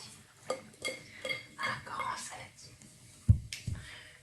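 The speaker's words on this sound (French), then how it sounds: "Il vous faut un grand saladier." A large salad bowl is handled for cookie dough, giving soft clinks and knocks of dishware under quiet whispered talk, with a heavier thud toward the end.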